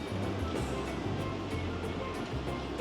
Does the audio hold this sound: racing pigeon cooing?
no